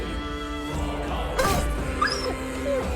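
Dogs in the tactical video game Battle Brothers make short whimpers and yips, moderately close and scattered over a few seconds. A sharp hit or impact sounds in the middle, with steady game ambience underneath.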